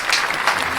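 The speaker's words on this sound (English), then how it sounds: "Clap it up." A studio audience bursts into applause during the opening of a talk show's Christmas episode, a brief, steady round of clapping filling the room with no voices on top.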